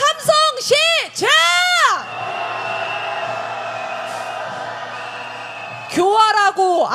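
A crowd at a street rally in Hongdae chants in rhythmic bursts, then breaks into a sustained roar of cheering and shouting before the chanting resumes, loud and close.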